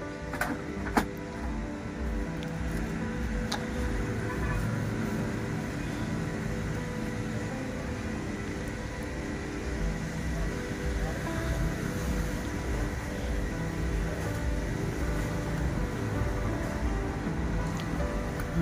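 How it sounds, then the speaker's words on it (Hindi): An Epson L360 inkjet printer runs after a reset, giving a steady mechanical whir with a faint click near the start, continuous and close for the whole stretch. "अभी मोमेंट कर रहा है प्रिंटर"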